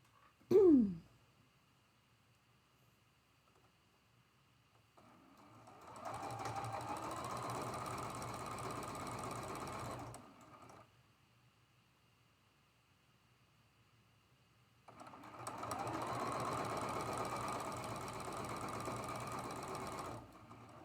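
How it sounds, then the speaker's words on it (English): A sewing machine joins two quilt patches with a quarter-inch seam, running in two steady bursts of about five seconds each, separated by quiet, with a brief sharp sound at the very start. "I'm going to sew this seam that connects the 2 patches together. with a 1/4 inch seam allowance."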